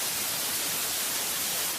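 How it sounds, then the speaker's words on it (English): Steady broadband white noise hiss, continuous and even across the whole stretch, with no pauses or variation, played alone without any voices. "You've heard of white noise, a sound that can drown out background noise and increase the quality of your sleep."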